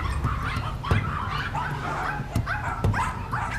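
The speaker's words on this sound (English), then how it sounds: "I am a puppy mill dog." A puppy mill dog barks in short bursts and whimpers between them, close and fairly clear, with several sharp yips spread across the moment.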